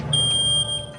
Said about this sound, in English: with barely any smoke in the room, the photoelectric sounds the alarm.